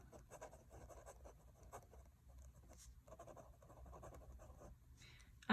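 A pen scratches steadily across paper while a physics homework problem is worked out, with quiet, continuous close strokes and brief pauses between them.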